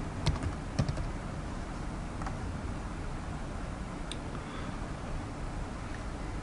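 Light, irregular keystrokes on a computer keyboard as a layer name is entered in Photoshop, with a few sharper clicks near the start, then steady soft tapping over a quiet background.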